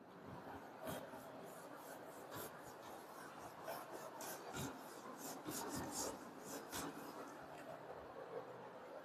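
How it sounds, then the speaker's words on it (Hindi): Rubbing out written work on a board during a maths lesson, a steady scraping rasp with repeated short strokes, fairly faint and continuous with no talk over it. "अब मैं रब कर रहा हूं इसको।"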